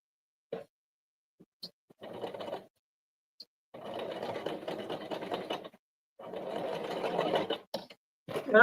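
A sewing machine stitches a knotted baby hat in several short, fairly quiet bursts of rapid needle clatter, stopping and starting between pivots with small clicks and handling noises in the pauses.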